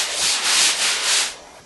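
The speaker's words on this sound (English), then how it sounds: "Finish sanding with sandpaper or the sanding sponge" Rhythmic scratchy rasping of sandpaper rubbed back and forth across a flat drywall surface, several quick strokes, close and clear.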